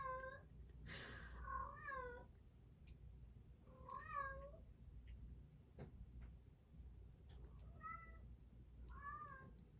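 An indoor house cat meows several times in a row, with clear drawn-out calls spaced over a few seconds against a quiet room background and no speech.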